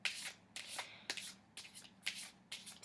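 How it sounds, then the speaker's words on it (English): Tarot cards riffled and shuffled in quick repeated bursts, about six close, crisp flurries of card flicks at a steady pace, quiet and alone. "I keep checking to see if I'm shuffling correctly"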